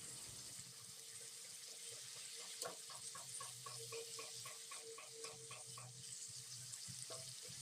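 Cauliflower mixture being stirred in a wok with its lid just taken off, a steady sizzle of frying under repeated soft scraping and clicking strokes of a spatula, close and continuous with no talk.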